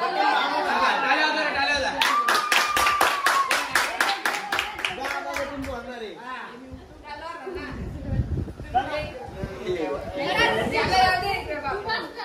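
A family clapping together in rhythmic bursts at a home celebration, mixed with lively chatter, children's voices and a little laughter, close and fairly loud.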